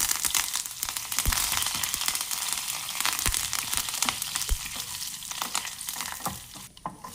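Fenugreek seeds, green chillies and curry leaves sizzle and crackle steadily in hot oil, with occasional sharp pops and a few stirring scrapes in the pan, close and continuous, with no voices.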